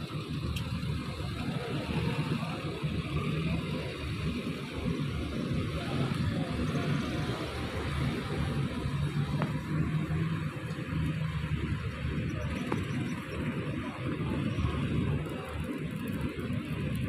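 Private cars rolling past at Bakauheni ferry port in Lampung, a steady low engine drone and road rumble that stays constant and moderately distant throughout.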